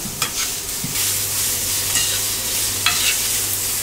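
Vegetables cook fast in hot oil in a pan, a loud continuous sizzle with a few sharp stirring clatters and a steady low hum beneath.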